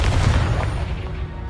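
Confringo explosive spell blast in the Hogwarts Legacy video game, a heavy booming burst with deep rumbling low end that rolls and decays over a second and a half, loud and close, with no talking.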